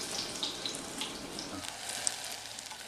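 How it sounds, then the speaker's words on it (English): Spoonfuls of eggplant fry in hot oil until golden brown, making a soft, steady sizzle and faint crackle throughout with a few small pops, at low volume and without speech. "drop them in the oil, and just cook them till they're golden brown"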